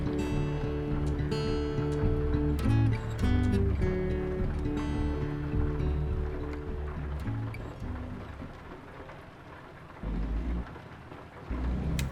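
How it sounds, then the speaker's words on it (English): Rain falls during an early-morning drive in the American Truck Simulator game, a steady hiss with rumbling, thunder-like low tones and a droning engine beneath, continuous throughout. "A rainy early morning."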